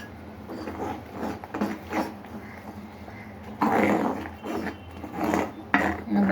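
Peanuts are stirred into hot jaggery syrup in a pan, giving bursts of scraping and clattering as the spoon works the thick mixture. There is no talk, and the level rises with each stir.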